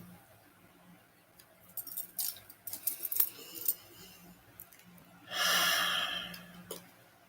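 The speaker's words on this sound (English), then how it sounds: "And breathe the fuck in." A single deep breath drawn in close to the microphone, loud and airy for about a second, after a few soft clicks and rustles in an otherwise quiet room.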